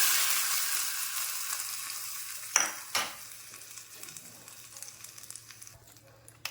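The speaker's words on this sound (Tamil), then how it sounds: "நான் நல்லெண்ணெய் ஊற்றி தாளிச்சிருக்கிறேன்" Mustard seeds, urad dal and curry leaves sizzle in hot sesame oil for a Tamil chutney tempering, a steady hiss that fades slowly, broken by two brief clinks of a utensil.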